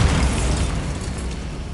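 A Bombarda spell detonates in the video game Hogwarts Legacy on PS5, a loud, close burst with a deep rumbling boom that decays over nearly two seconds.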